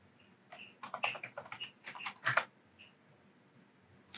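Someone types a password on a computer keyboard, a quick burst of about a dozen close, crisp key clicks in uneven clusters, then a pause and one last tap.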